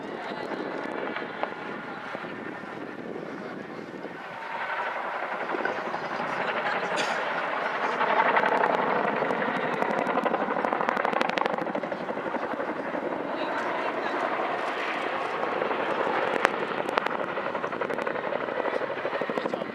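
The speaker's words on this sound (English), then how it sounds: "the Chinook used to demonstrate its excess of power compared to other helicopters by climbing directly, twisting in the climb" A Chinook helicopter spiralling down in a descent at a Dunsfold Wheels air display, its heavy rotor thrum and turbine roar rising and swelling at a distance while a commentator talks over it.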